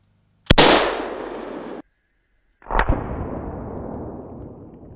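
An AK-47 fires single 7.62x39 rounds into a block of solid concrete outdoors: a sharp, loud report with a long decaying tail, then after a short gap a second sharp crack, likely the impact, trailing off with reverberation.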